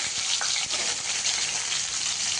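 Mustard seeds crackle and sizzle in hot oil in a kadhai, a steady close frying hiss with small pops throughout, with no one speaking.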